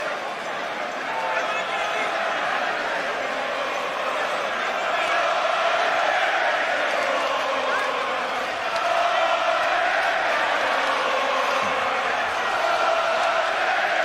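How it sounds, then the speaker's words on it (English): A boxing arena crowd roars steadily through a heavyweight fight involving Chisora, a dense, sustained cheer that swells in waves, with voices talking over it. "the crowd to their feet and cheering everything that he lands"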